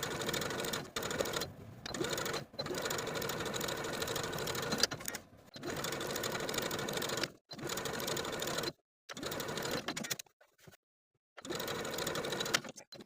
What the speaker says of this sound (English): Stop your stitching, then start a fresh set of stitching to understitch the next section of the facing